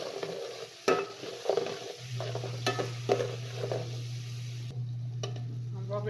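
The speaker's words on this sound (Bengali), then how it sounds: "ভালোভাবে পেঁয়াজটা একটু লাড়া দিলাম।" Sliced onions fry with bay leaves and whole garam masala for a duck curry. Several scraping stirs of a spatula in the pan give way to a steady, close sizzle.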